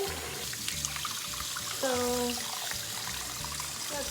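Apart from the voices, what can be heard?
water running from a sink tap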